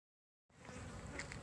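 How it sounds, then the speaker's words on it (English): A honey bee swarm cut from a pittosporum tree buzzes loudly and continuously, a dense insect drone that starts abruptly after a short silence. "So we just cut a swarm out of a tree, this pittosporum back here"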